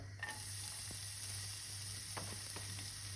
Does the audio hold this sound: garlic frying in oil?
yes